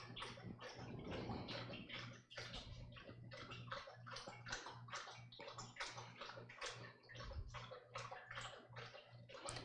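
A dog laps water steadily and rapidly, with wet splashing slurps repeating close up and continuously, over a low background hum.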